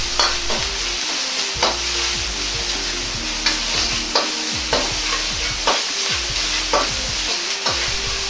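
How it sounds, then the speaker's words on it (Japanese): Minced meat frying crisp in its own rendered fat plus added oil, loud steady sizzling close up with repeated scraping strokes of stirring at a regular rhythm, no voices. "ひき肉から溢れ出てきた油と炒め油を使い、揚げるようにして炒めていきます。"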